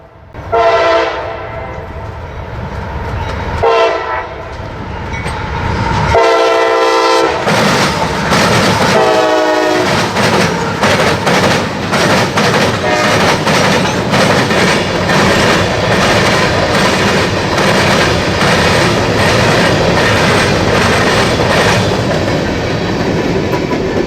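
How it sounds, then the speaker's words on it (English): A freight train hauled by Ohio Central Super 7 locomotives passes close and loud, sounding several long horn blasts before a sustained rolling roar with rhythmic clickety-clack of the wheels. "That train with the Ohio Central Super 7s is seen once again. It is heading to Cary, where it will make a pickup."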